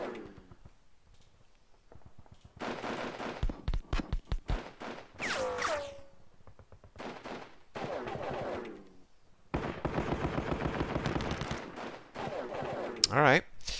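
Gunfire in the wargame Panzer Battles Kursk comes in repeated bursts of rapid rattling shots, loud and close, with short gaps between volleys and a brief whistling sweep near the end.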